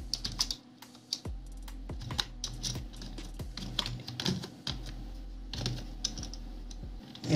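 Keys tapped on a computer keyboard while entering a GRUB rescue command to fix a no-such-partition boot error, a steady run of close, crisp clicks with short pauses and no talk.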